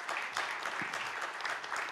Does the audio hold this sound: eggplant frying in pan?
no